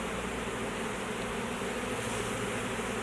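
A honey bee swarm being shaken into a wooden hive box produces a dense, steady buzzing from many bees close by, filling the whole stretch without pause.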